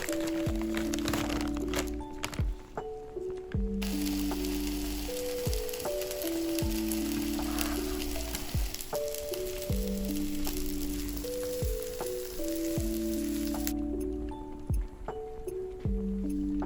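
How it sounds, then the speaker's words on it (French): Frozen gyozas and Cantonese-style rice frying in a pan, a steady close crackle and sizzle with popping fat running throughout, no voices. "j'ai fait une sorte de riz cantonais express avec des gyozas surgelés"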